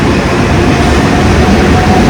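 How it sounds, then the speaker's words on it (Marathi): A Mumbai local train pulls out of the station with a loud, steady rumble and roar of wheels and carriages, broadband and close, continuous throughout with no voices audible. "मी जस्ट ट्रेनवर चढणार होतो आणि ट्रेन ऑन वाजला आणि ट्रेन निघाली."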